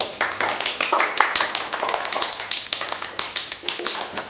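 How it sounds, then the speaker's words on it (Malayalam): A group of people applauds at a workplace gathering, a burst of close, steady clapping that keeps going, with scattered sharper claps standing out. "എല്ലാവരും ഒന്ന് കൈയടിക്കും."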